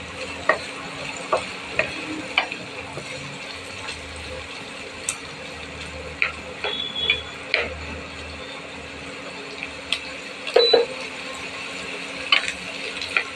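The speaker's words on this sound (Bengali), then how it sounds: "পেঁয়াজ ভাজতে দিয়েছি।" Onions frying in a pan for egg tadka give a low, continuous sizzle, broken by scattered clicks and scrapes of a utensil against the pan that come louder near the end.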